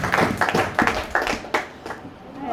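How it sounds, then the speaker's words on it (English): A round of applause: several spaced bursts of hand clapping from a small group, fairly close and loud, tapering off over a couple of seconds with no speech over it. "Give her a round of applause."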